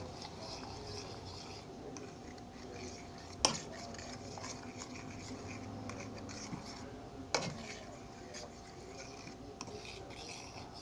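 Shredded cheese being stirred into eggs in a baking dish: a quiet, steady scrape of a utensil against the dish, broken by two sharper clinks.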